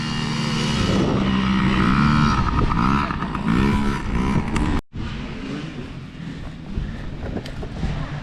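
Several kids' dirt bikes launching at the start of a race on a motocross track, engines revving hard and rising in pitch, loud and close with wind buffeting the microphone, then dropping away briefly before a farther, steadier engine drone continues.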